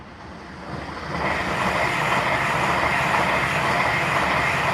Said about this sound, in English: the station comes alive with freight at night time